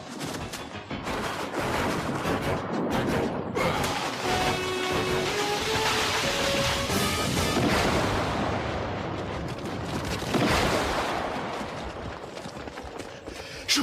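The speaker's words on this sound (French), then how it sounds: "J'ai entendu une explosion." A loud, sustained rumbling explosion blast with crashing and clattering debris in the animated series Cadillacs and Dinosaurs, swelling again toward the end.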